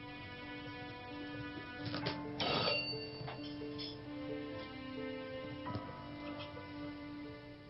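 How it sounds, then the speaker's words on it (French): A telephone rings in bursts behind a steady hum, the tone bright and repeated a few times, not very loud. "N'as-tu pas entendu la sonnerie?"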